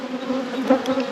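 Angry honeybees buzz steadily around an opened deep hive during an after-winter inspection, a dense, close, continuous drone with a brief louder swell midway.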